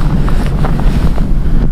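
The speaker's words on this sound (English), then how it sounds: "Whoa, windy!" Strong gusts buffet an outdoor microphone on a cold day, a loud continuous low roar with rumbling bursts throughout, no voices.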